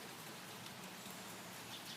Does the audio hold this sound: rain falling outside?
yes